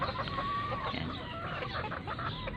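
Young stag chickens clucking steadily in a busy flock, a continuous layered chorus of clucks and calls close by with no pauses.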